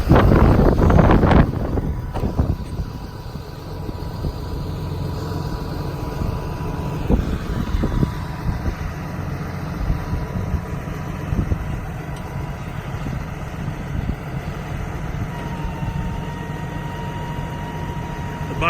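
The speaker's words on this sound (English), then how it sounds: "So I'm going to have Chris go ahead and engage the PTO," A 2012 Dodge Ram 5500 bucket truck idles with its PTO engaged while the boom moves, giving a steady, close engine and hydraulic drone with a faint sustained whine. An abrupt louder burst opens it, and wind buffets the microphone throughout.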